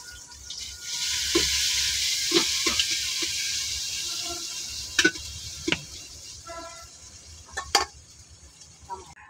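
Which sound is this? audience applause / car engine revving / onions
onions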